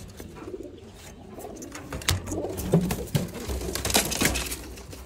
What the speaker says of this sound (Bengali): সব হচ্ছে ব্রিডিং সেট আপ, ব্রিডিং এর কবুতর